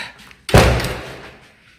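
A door swung shut with a single loud, close thud and a short rattling decay after a brief quiet moment.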